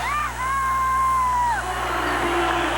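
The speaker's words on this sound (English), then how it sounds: "Oh, the crowd goes crazy." An arena crowd at a 1987 USHRA monster truck and mud racing event in Chicago, Illinois, erupts in cheers, with piercing whistles and whoops rising over a roaring mass of voices and a steady electrical hum.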